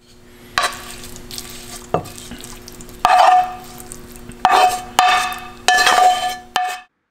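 Stir-fried tomato and egg is scraped from a pan onto a plate: several sharp metallic scrapes and clanks of a spatula, each followed by a brief sizzle, close and clear, ending in silence.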